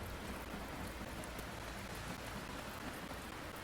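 Steady rain falls in a video game, a constant even hiss of droplets with no voices, holding at the same level throughout.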